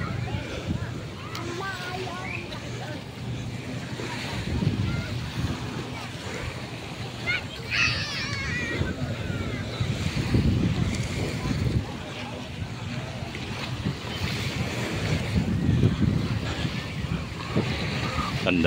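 Steady sea surf and gusty wind roll along a tree-lined shore, a continuous broadband wash with swelling peaks, with people talking over it.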